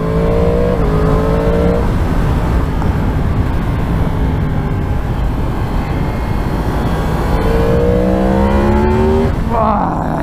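A 2022 Yamaha MT-10 motorcycle engine runs loud and continuous with strong intake roar, rising and falling in pitch through gear changes, with a sharp rev climb near the end.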